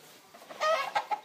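Farmyard chickens give a short burst of clucks, a few close, clear calls in quick succession with light background noise.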